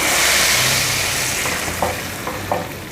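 Hot tempering (baghar) with curry leaves hits a pot of moong masoor dal and sizzles loudly, a dense hiss that slowly fades, with a few small metallic clinks of a spoon near the end.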